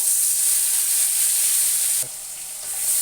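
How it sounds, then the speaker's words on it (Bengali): Cumin seeds and onion paste sizzling in hot oil for a whole loitta fish curry, a loud bright continuous hiss close up that briefly dips in intensity, then rises again, with no talking. "তেল গরম হয়ে গেছে, একটু ফোড়নে সাদা জিরে দিয়ে দেবো, একটু পেঁয়াজ বাটা দেবো"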